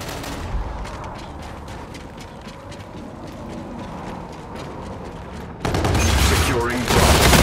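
Rapid automatic gunfire from a gun in the video game Infinite Warfare, a dense rattling burst of closely spaced shots, with louder, harsher firing and mechanical clatter toward the end, under occasional game noise.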